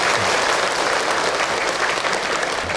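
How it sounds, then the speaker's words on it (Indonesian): A crowd at a religious lecture applauds continuously, dense even clapping filling the room at steady loudness for the whole stretch. "Tepuk tangan buat kita semua yang hadir."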